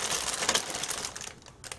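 A plastic bag holding model gun parts crinkles and crackles as it is handled up close, a busy run of crisp rustles that thins out toward the end.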